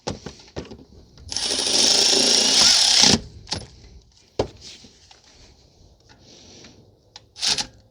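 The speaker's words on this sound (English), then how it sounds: "So tighten down the caliper bolts." Brake caliper bolts are tightened on a 2019 Honda Civic 2.0 during front brake service, with a loud rattling burst from a power driver lasting under two seconds, surrounded by sharp clicks and clanks.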